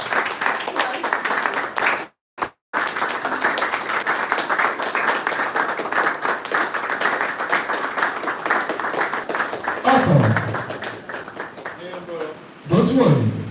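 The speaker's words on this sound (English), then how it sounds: "You will keep clapping until he's well seated." An audience claps steadily and continuously as a new head is seated, a dense close patter broken by a brief pause, with voices speaking over the applause near the end.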